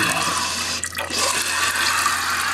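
Water rushes steadily into a toilet tank refilling through a newly replaced ballcock supply valve, a continuous hissing flow with a brief dip partway through.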